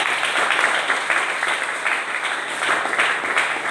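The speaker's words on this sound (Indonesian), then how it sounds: "Berikan tepuk tangan yang paling meriah." A church congregation at a Christmas service applauding, dense overlapping claps rising and falling steadily for several seconds, moderately loud, with no voices on top.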